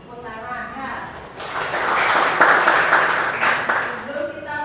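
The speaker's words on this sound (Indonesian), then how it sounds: "Tepuk tangan ya." A school class bursts into brief applause, a rising wash of clapping that swells and then fades, with a teacher's voice just before and after.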